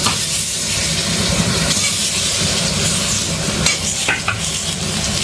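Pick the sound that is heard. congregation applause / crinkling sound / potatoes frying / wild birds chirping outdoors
potatoes frying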